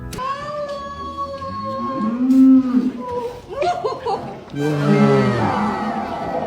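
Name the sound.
cow mooing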